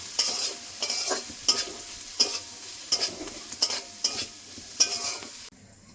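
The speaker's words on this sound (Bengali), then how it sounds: "ধনে গুঁড়ো, কাশ্মীরি লঙ্কার গুঁড়ো, মশলা দিয়ে আরো কিছুক্ষণ ভেজে নেব।" Chicken being fried in a pan with turmeric, coriander powder and Kashmiri chili powder for chicken rolls; a spatula scrapes and stirs in about seven regular strokes over a light sizzle, stopping abruptly at the end.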